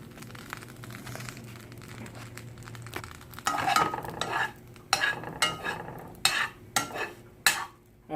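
Butter sizzling and frying in a pan for a grilled cheese sandwich, a soft steady crackle joined partway through by louder scraping, stirring and clattering strokes of a utensil against the pan, close and without talk.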